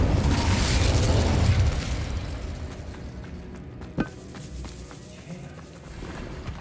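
Confringo and Incendio spell blasts in the video game Hogwarts Legacy, a loud, dense rumbling burst that fades into a sharp crack, then scattered softer pops over a dim background.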